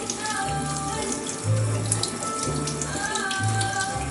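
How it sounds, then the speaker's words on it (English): Running tap water pours steadily over foraged wild food being rinsed of grit, a loud continuous splashing stream with shifting tones as the items are moved under it. "what I'm going to do today is just wash any grit off them"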